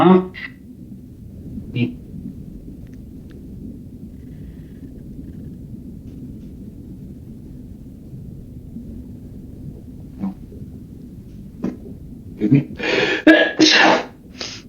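A loud, close sneeze bursts out near the end after a long quiet stretch with a few scattered small sounds.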